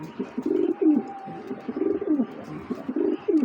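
Racing pigeons coo in repeated soft, throaty phrases, a steady rhythmic burbling close by with no voices.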